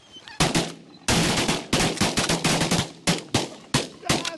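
Shotguns fire at a flock of birds during a hunt, a quick volley of loud, close blasts, some overlapping and others spaced out, with echoes trailing each shot.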